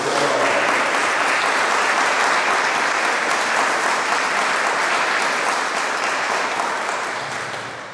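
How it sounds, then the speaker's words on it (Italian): A church congregation breaks into applause during a bishop's visit, a full, even wash of clapping that holds steady and then begins to fade near the end. "Gli applausi non sarebbero consentiti in chiesa, ma questo applauso fa bene"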